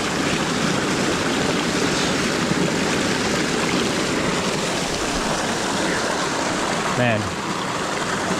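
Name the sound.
river water flowing at Mayo River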